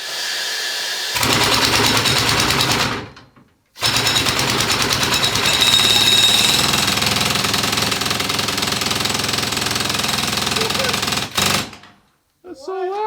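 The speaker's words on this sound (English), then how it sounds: "I'm gonna show you how this drill runs now." A pneumatic rock drill hammers loudly in rapid, continuous bursts, stopping briefly once, then running again before cutting off; a voice is heard at the end.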